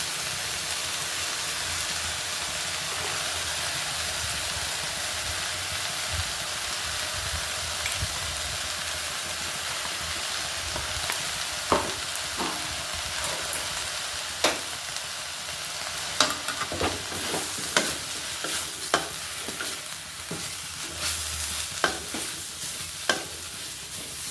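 Ground roasted dried chilli, rice and garlic are stirred into cooked drumstick-leaf greens in a hot pan, giving a steady close sizzle with sharper scraping and tapping stir strokes that grow more frequent in the latter half, with no talking.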